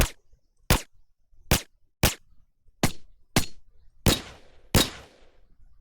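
Eight sharp, dry shots from a suppressed weapon in the video game Payday 2, fired one at a time at an uneven pace with silence between, the last two fuller and trailing a brief tail.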